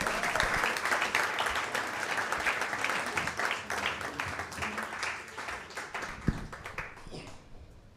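An audience at a comedy club applauds with brisk, scattered clapping that stays loud and busy, marked by one sharp knock near the end before it fades out.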